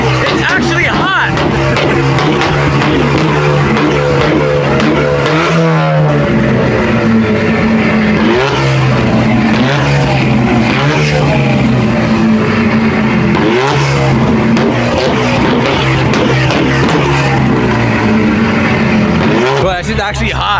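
A loud, aggressive BMW M3 F80 engine revs and roars continuously, pitch rising and falling with throttle blips, with voices talking over it.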